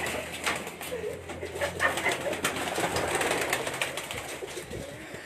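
Pigeons coo softly on a rooftop loft amid a busy, noisy outdoor bed of rustling and background activity, with no clear talking.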